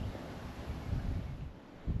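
Wind on a cool, clear morning at Kings Canyon Resort in the Australian outback gusts against the microphone, a low rough rumble that swells and eases over two seconds.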